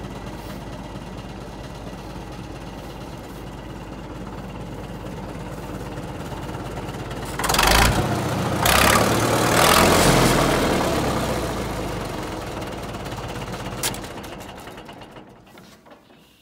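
A 1951 Caterpillar D4 crawler tractor engine runs steadily in a low, even chug, swelling louder for a few seconds midway as it revs, then easing back down and fading toward the end.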